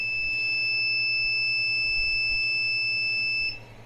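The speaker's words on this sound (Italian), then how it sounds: "il sensore finisca il filamento e faccia partire l'allarme e interrompa la stampa" Two steady high-pitched alarm tones sound continuously from the filament runout sensor of an Artillery Genius 3D printer, holding loud and unbroken for several seconds over a low machine hum before cutting off.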